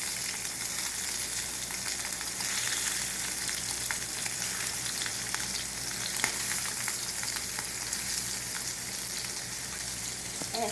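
Shrimp fry in a pan for a seafood salad, giving a steady, close hiss and crackle of sizzling oil with occasional stirring clicks and no voices.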